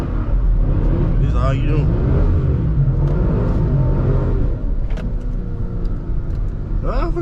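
A 5th generation Chevrolet Camaro SS V8 rumbles deep and loud from inside the cabin, a constant low growl with someone talking over it.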